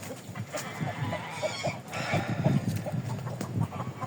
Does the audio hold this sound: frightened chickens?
yes